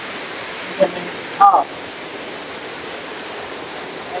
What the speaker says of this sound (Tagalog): Kahit tag-araw, malakas yung agos ng tubig.